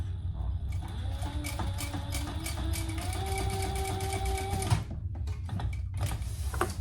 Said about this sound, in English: we're gonna baste that in place